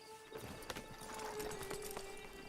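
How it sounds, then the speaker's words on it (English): Horse hooves clip-clop in the Wild West video game Red Dead Online, a brief run of steady, fairly close hoofbeats over a faint background hum. "Get on the horse when you're ready."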